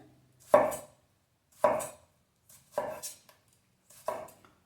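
A knife cuts a tomato into thin slices on a board for a vegan sourdough sandwich, giving four separate crisp chopping strokes spaced about a second apart, close and clear with no talking.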